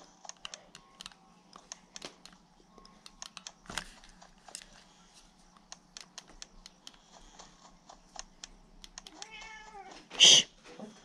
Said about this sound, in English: That was our cat minion.